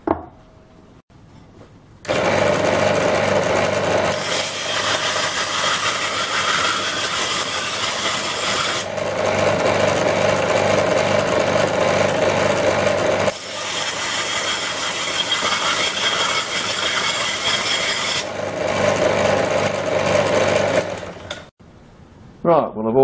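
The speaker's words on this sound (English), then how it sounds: "I've also run the grinder and the linisher along the inside edges here to make sure there's any burrs that are on there are gone" A grinder and a linisher deburring the inside edges of an old steel casting mold make two long, loud, close grinding passes of abrasive rasping and motor whine, with quiet gaps at the start, middle and end.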